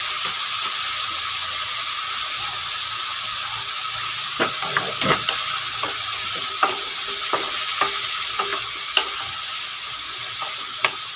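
Eggplant and pork stir-fry sizzling steadily in a pan, with sharp clicks and scrapes of a utensil stirring intermittently over the hiss.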